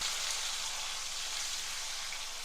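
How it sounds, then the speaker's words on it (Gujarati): Peanuts sautéing in hot oil in a tempering for Gujarati dal dhokli, a steady soft sizzling hiss that stays even and continuous with no voices. "વઘાર સંતળાઈ જાય એટલે થોડા સિંગદાણા ઉમેરીશું। તો તેને પણ થોડા સાંતળવાના છે।"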